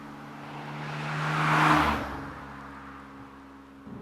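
A 1990s Japanese-market turbocharged car accelerating, its engine note climbing to a broad rushing peak midway before easing back to a steadier drone, heard from inside the car with no talk.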